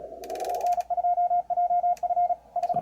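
A CW Morse signal tuned off-center in a radio's band-pass filter, a steady tone keying on and off in even dashes and dots over a faint hiss and some noise at the start.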